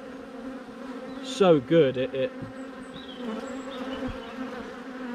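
Honeybees swarm around a hive split taken from a big, strong colony, their steady close buzz running throughout while someone talks briefly over it.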